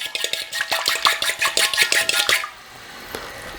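Poached chicken being stirred into a soy-based sauce in a pan, a quick run of close, rhythmic scraping and clinking strokes that stops abruptly, leaving a quiet room hum.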